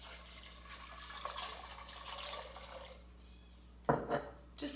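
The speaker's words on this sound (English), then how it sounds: "And then we're going to cover the cranberries with water." Filtered water is poured from a tap over cranberries in a kitchen pot, giving a steady soft splashing stream that fades out, then a couple of brief louder clunks near the end.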